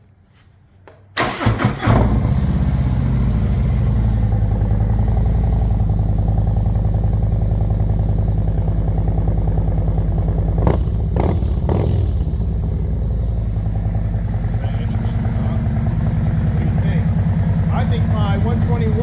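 A motorcycle with a Chromeworks 117 motor cranks briefly, then catches and settles into a loud, steady, lumpy idle that runs on close by.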